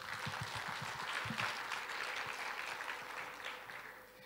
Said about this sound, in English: a big round of applause to all of our staff members to make this happen